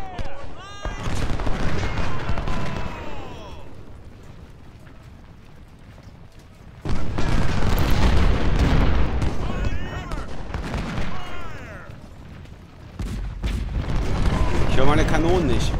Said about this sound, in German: So, Kanonen decken bitte unseren Flussübergang und Feuer